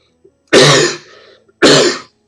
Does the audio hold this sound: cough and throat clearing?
yes